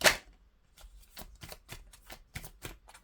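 Tarot cards being shuffled by hand, a loud riffle at the start followed by a steady series of soft, papery card flicks and slaps, close and with no talking.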